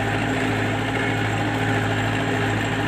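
An MTZ 82 tractor engine with a knocking fault runs steadily at a low, even idle, a close, continuous mechanical drone with faint rhythmic pulsing.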